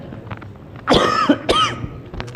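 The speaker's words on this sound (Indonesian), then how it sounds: "Mohon maaf karena sedikit batuk" Two short, sharp coughs from a man leading a religious study gathering, close to the microphone and loud against a quiet room.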